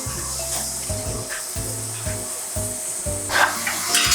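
Cherry tomatoes frying in olive oil in a pan, a steady close sizzle with soft stirring scrapes and a low background hum, growing brighter and louder near the end.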